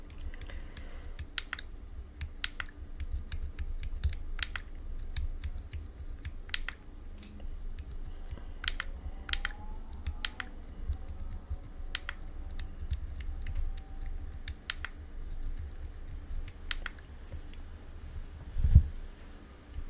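Keys clicking steadily on a computer keyboard while a PIN is entered during setup of a Bitcoin and Lightning node server, with light irregular taps over a low background hum and no voices.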